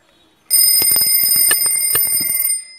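A Casio TQ-362 quartz alarm clock's alarm rings loudly and close, a continuous shrill electronic beeping with rapid pulsing that starts abruptly and runs for about two seconds.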